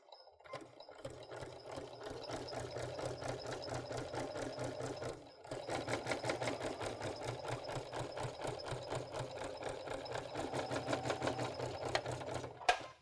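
A Baby Lock sewing machine fitted with a garment maker foot stitches fabric in a steady, close, continuous mechanical whir, pausing briefly partway through before running on again.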